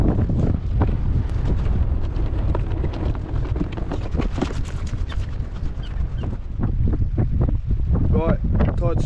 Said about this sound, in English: sorry about the wind. It's just as windy as it was last night